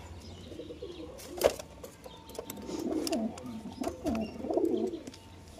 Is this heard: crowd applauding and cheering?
no